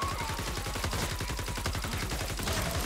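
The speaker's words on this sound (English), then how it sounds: "Get ready to shoot in the face." Rapid automatic gunfire from the video game Fortnite: Save the World, a dense continuous burst of shots with no voices over it.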